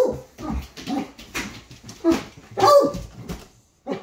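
A hound dog barks, whimpers and yips in short, expressive bursts and chattering vocal noises, fairly close and loud, with brief quiet gaps between calls.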